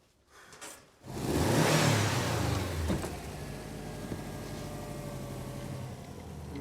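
A car engine starts after a short quiet moment and revs up loudly, then settles into a steady, throaty running drone up close.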